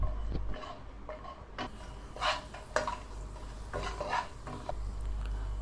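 Cashew nuts roasting on low flame in hot ghee in a pan, a spoon stirring and scraping with intermittent clinks over a soft steady sizzle, close and fairly quiet, no talking.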